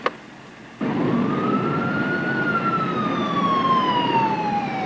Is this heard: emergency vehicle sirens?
yes